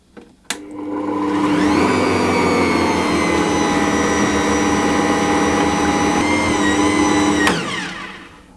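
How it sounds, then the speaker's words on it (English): An Ankarsrum stand mixer kneads pizza dough on low speed, starting with a click, then whirring in a steady, close motor hum for about seven seconds before switching off with another click. "I'm just going to mix this on a low speed until it does that"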